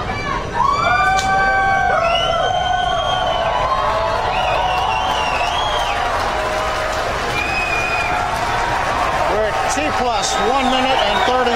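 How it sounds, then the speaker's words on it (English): A crowd at SpaceX Hawthorne cheers and whoops during a Falcon 9 launch. Whistles and rising shouts layer over steady applause, and a commentator talks throughout. "a lot of cheering here in Hawthorne"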